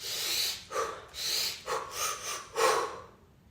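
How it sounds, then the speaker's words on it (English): Sharp, harsh energizing breaths are demonstrated up close: a quick series of about five forceful nasal inhales and exhales in an uneven rhythm, with no speech. "focusing on a little sharper and harsher breaths like this"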